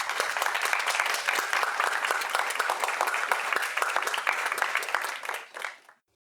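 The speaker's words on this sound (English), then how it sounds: "So please welcome them to the stage and join me in an applause." Audience at a student union annual members' meeting claps to welcome a five-member band to the stage, a dense steady applause that fades out and ends abruptly.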